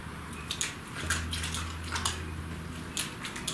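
Water pumped into a small model canal, with steady trickling and splashing plus intermittent drips and gurgles over a low pump hum that starts partway through.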